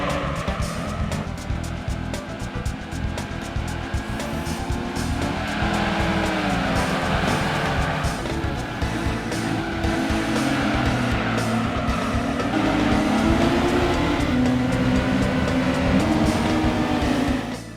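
A tuned Suzuki Cappuccino race car in Gran Turismo 2 drives hard, its engine note rising and falling through gear changes, with tyre squeal in a steady, loud stream and no talking.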